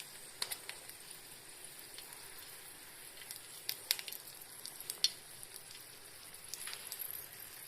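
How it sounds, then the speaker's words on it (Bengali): Three dried red chillies frying in white oil, with a quiet, steady sizzle and scattered small crackles and pops, close but faint. "মধ্যে হোয়াইট অয়েলটা দিয়ে দিলাম, দিয়ে 3টে শুকনো লঙ্কা দিয়ে দিলাম।"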